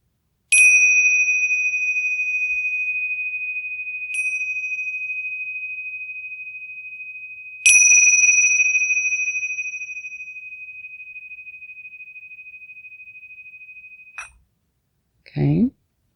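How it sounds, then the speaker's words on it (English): Om bells, a set of tinkle bells, are struck three times in close succession, each bright ring hanging and decaying slowly, followed by a brief bit of speech at the end. "this is choice A, the tinkle bells, the Om bells"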